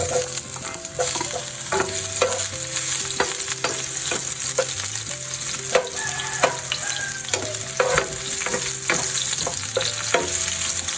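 Onions sizzle loudly in hot oil in a pan as squid adobo is started, a steady frying hiss punctuated by repeated clicks and scrapes of a stirring utensil.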